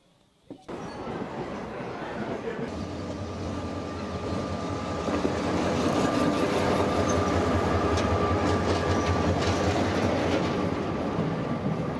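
A passenger train on the Tema-Accra shuttle line rolls along in motion, heard from inside the carriage as a steady loud rumble with clattering wheels and a faint tonal whine, building after a brief quiet start.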